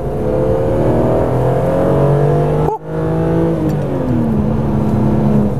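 A BMW E36 M3 Evolution with a 321-horsepower engine revs and accelerates up close, its steady engine note climbing in pitch, dipping briefly at a gear change, then pulling hard again.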